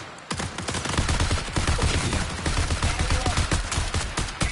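Rapid gunfire from the Marathon shooter game on PS5, a dense, continuous barrage of shots and bursts lasting throughout, loud and close with no talking.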